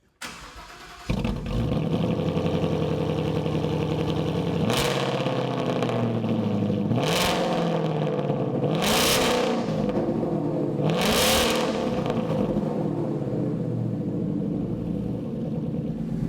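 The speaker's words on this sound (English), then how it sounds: "Now let's see how it sounds with a Resonator Delete X-Pipe." A 2015-2023 Ford Mustang GT V8 with a resonator-delete X-pipe exhaust starts with a sharp catch, settles into a deep burbling idle, then rises in four loud, throaty revs spaced about two seconds apart.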